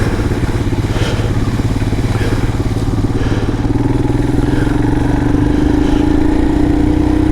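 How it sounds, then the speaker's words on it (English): A Royal Enfield Himalayan 411 motorcycle engine braking in first gear down a wet, slippery green lane, with a steady, loud low-mid drone and throbbing engine tone holding throughout, rising slightly in pitch toward the end. "keep it in first gear, use engine braking"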